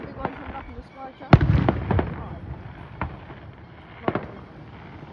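Fireworks bursting in the sky, a loud boom followed by several sharper cracks and pops at a distance, with people talking faintly.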